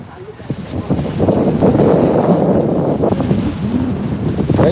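Wind buffeting an outdoor microphone during a live stream at a fiesta in America, a loud steady rumble with gusty surges that run through the whole stretch, with voices faintly mixed in underneath.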